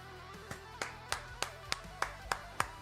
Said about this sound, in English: I'll give you my own round of applause